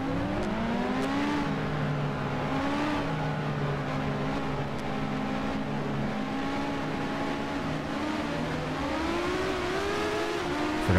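Race car engines from a racing video game hum and whine steadily at the race start, with layered rising and falling engine tones over a constant dense drone, no talking.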